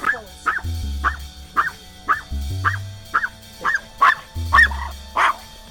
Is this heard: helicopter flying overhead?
no